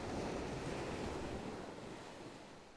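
Sea waves wash steadily onto the shore at night, making a continuous broad rushing hiss with wind noise. The sound is fairly quiet and even, with no voices.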